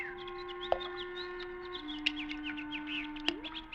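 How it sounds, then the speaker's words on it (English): Birds chirp and cluck around a garden fish pond at sunset in an old radio horror drama, many quick calls scattered over a steady low hum, with no talking. "Oh, birds playing in the fish pond."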